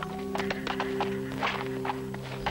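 An old horse's hooves clip-clop in a steady, moderately close rhythm, with a low constant hum in the background.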